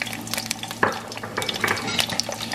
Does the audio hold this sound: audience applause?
no